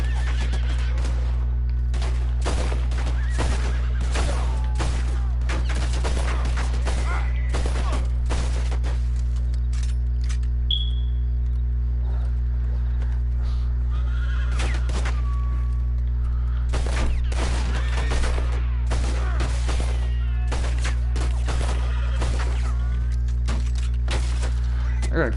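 Pistol gunfire in the video game Red Dead Redemption cracks out in sharp, irregular bursts, some shots clustered rapidly and others spaced apart, loud over a constant low game drone, with occasional talk in between.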